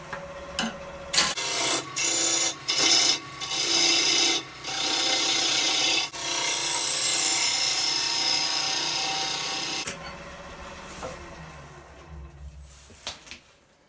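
A wild birch bowl spins on a wood lathe, the gouge biting in a series of short rasping bursts before settling into a long continuous cut that ends abruptly, leaving a quieter tail of faint scraping.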